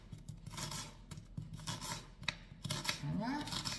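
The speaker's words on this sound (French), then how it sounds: "j'ai commencé à couper mes oignons" Onions being chopped with a knife on a cutting board in a home kitchen, a steady run of crisp, quick cuts close up with a few brief pauses.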